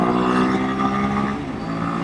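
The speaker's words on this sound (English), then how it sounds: "What a hot rod motorcycle, huh?" A Royal Enfield Himalayan 450 motorcycle on knobby tires hums steadily while riding on pavement, its pitch shifting a little as the revs dip and rise, loud and close.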